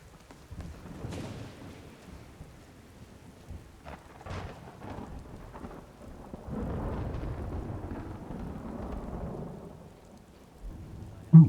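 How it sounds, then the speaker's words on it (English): A thunderstorm in the video game Skyrim, with steady rain on surfaces and deep rolling thunder that swells into a long rumble midway, all without speech. "I'm loving the sound of this thunderstorm, by the way."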